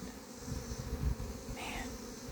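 Bees from a destroyed, honey-emptied hive buzz steadily and angrily in a dense swarm close by, with one louder pass as an insect flies near the microphone.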